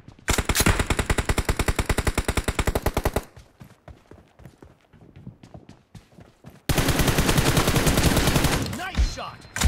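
Loud automatic gunfire from the PUBG arena team deathmatch game comes in rapid bursts: a long fast volley, a gap of scattered shots and footsteps, then another sustained burst near the end.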